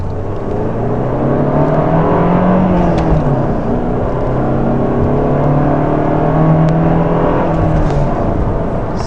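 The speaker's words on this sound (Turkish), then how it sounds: "Şimdi arkadaşlar motor ısındı. Şu an arabanın hızlanışına bakın." A warmed-up Mercedes W124 engine pulls steadily under acceleration, its rising drone loud and continuous from start to finish, with no voices over it.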